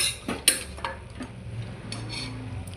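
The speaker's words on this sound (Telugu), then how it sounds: "మధ్య మధ్యలో ఇలా అయితే కలుపుతూ ఉండాలి." Mutton being stirred for Andhra-style sambar in a covered pot, with a few sharp clinks of a spoon on metal near the start, then soft scraping and low simmering sounds continuing quietly.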